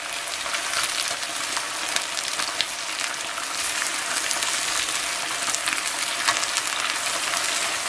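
Meat sizzling steadily in a hot frying pan, a dense continuous crackle and spatter holding at an even, close level without pause.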